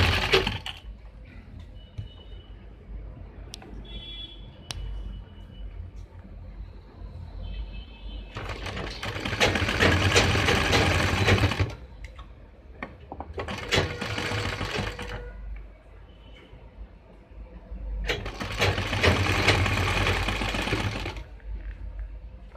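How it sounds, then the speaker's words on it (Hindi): Sewing machine stitching the neck of an angrakha suit, three loud whirring runs of a few seconds each separated by quieter pauses with light clicks and fabric handling. "ऊपर दूसरी सिलाई लगाएंगे, वो यहाँ से ऊपर से स्टार्ट करेंगे।"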